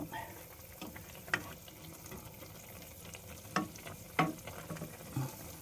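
A pot of tom yum dumplings boils too hard, giving a bubbling, sizzling wash close by with a few sharp clinks and knocks scattered through it.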